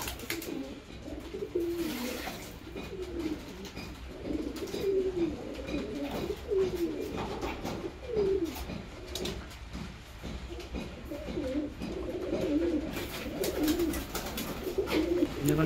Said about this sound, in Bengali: পায়রার এই স্নান করার দৃশ্যটা কিন্তু খুব সুন্দর